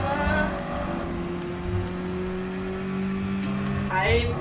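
Race car engines from Gran Turismo Sport in split-screen play, a steady droning engine hum with sustained tonal harmonics throughout, rising in pitch near the end as a car accelerates.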